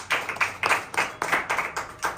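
Church congregation clapping hands in worship, a run of rhythmic bursts about every third of a second, moderately close and steady with no talking over it.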